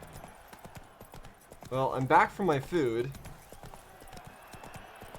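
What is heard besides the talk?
horse hooves galloping in video game The Witcher 3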